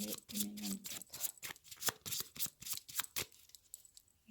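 Tarot cards are shuffled and cut by hand in a rapid series of crisp riffling flicks and soft slaps, close and quiet, with a brief murmur of voice in the background.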